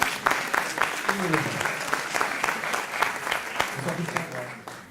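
Audience applause greeting a contestant at a live research-presentation show on stage, sustained clapping from a crowd with a host's voice speaking briefly over it.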